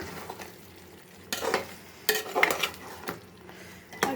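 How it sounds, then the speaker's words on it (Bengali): Chicken roast gravy with powdered milk is stirred in a pan, giving a few sharp scraping strokes and clanks of a spoon over a faint sizzle, close by and with no voices. "একদম ভালোভাবে নেড়ে চেড়ে দিব।"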